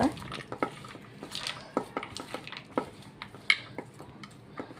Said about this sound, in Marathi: आता छान याला मिक्स करून घ्यायचं आहे